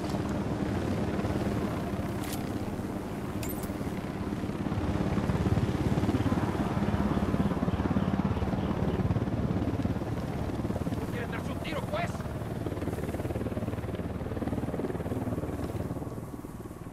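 A helicopter in the Ghost Recon Wildlands video game drones overhead with a steady, loud rotor rumble that swells and holds for several seconds, accompanied by brief in-game sound effects.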